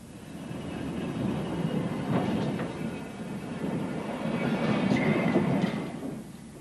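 Freight wagons roll down the hump at the Maschen marshalling yard, a steady, broad rumble of wheels on rail that swells and eases over several seconds, with faint higher squeals and clanks mixed in and no talk.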